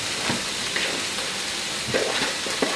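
Chicken and spice mixture tossed into a pan over a layer of onions, giving a steady close sizzle and crackle with a few soft stirring scrapes, no talking.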